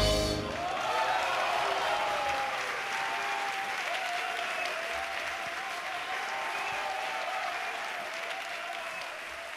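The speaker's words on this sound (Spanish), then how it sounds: "Fuerte el aplauso para estos divinos que me acompañan" A jazz concert audience breaks into loud, sustained applause that begins abruptly and stays dense throughout, fading only slightly toward the end.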